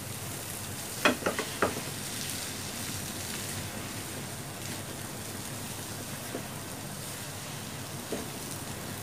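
Chopped mocha (banana flower) bhaji sizzles steadily in a pan, an even, close frying hiss with a few sharp clicks of a spatula stirring near the start and occasional soft taps later.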